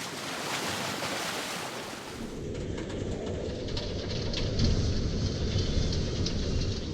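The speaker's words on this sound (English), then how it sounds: "The definition of a gale is when the tops of the waves get blown off, and we definitely got some of that going on." A gale-force Meltemi wind roars around a sailboat sheltering at Paros, Greece, with loud, constant rushing air and crashing waves that stay dense and unbroken throughout.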